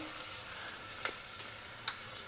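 Onions frying in a pan with ginger garlic paste for paneer pulao, giving a soft, steady sizzle with a few faint stirring clicks and no voices.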